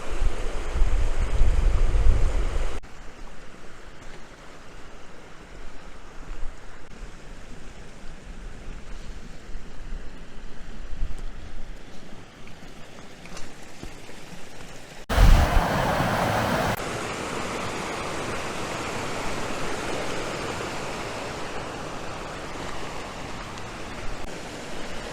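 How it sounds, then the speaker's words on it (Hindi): Rushing water of the Grey Mare's Tail waterfall in Scotland mixed with gusting wind buffeting the microphone, a steady broadband roar with strong wind bursts at the start and again midway. "सिर्फ यहाँ पानी की आवाज़ है और दूर दूर तक खामोशी है"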